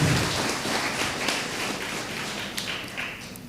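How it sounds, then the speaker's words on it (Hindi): Church congregation clapping for the choir group at a Christmas Eve service, a steady wash of applause from a roomful of people that holds evenly throughout. "एक बार हमारे कोयर ग्रुप के सभी सदस्यों के लिए ताली बजाइएगा"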